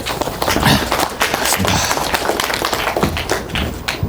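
Audience clapping to welcome a lecturer at an academic talk on Sangju Arirang, dense close hand claps with uneven taps running throughout.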